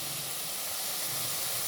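Egg sizzles in a pan with sautéed bitter gourd, a steady, close hiss of frying oil with no talking.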